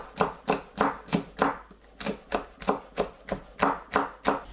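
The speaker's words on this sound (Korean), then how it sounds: "파를 어슷 썰어주세요. 홍고추와 청양고추는 둥글게 썰어주세요." Knife slicing green onion diagonally and red and green chili peppers into rounds on a cutting board, a close, steady rhythm of about a dozen crisp chops at an even pace.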